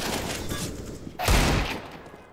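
Desert Eagle pistol fire in the Counter-Strike game on the Train map, a few quick shots followed by a heavier, louder blast, under faint background game noise.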